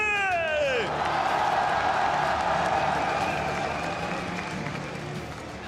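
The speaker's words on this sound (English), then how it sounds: "une fois de plus, applaudissons tous ensemble les RNG" Audience applauding and cheering for the RNG esports team at an MSI semifinal opening ceremony, a broad roar of clapping and whoops from a large arena crowd, steady then slowly fading, with a descending electronic sweep at the start.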